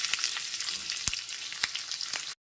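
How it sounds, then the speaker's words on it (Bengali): Chopped onions sizzle and crackle steadily in a hot pan, with a few sharper pops and clicks breaking through before it cuts off. "পেঁয়াজ কুচুগুলো হালকা করে একটু ভেজে নিতে হবে"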